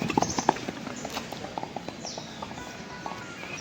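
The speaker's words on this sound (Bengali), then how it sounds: "এই সামনে দিয়ে যে ঘোড়াটা আসছে" Hooves clop in a quick, uneven rhythm as a horse approaches at the Sisai horse fair in Bihar, loudest at first and then fading into light background noise.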